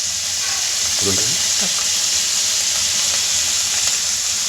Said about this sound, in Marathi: मशरूम तळलेल्या तुपामध्येच आपण हे जिरं टाकतो आहोत